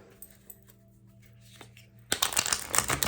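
A deck of tarot cards is shuffled close by, a quiet tap or two and then a dense rapid riffle of flicking card edges in the last second.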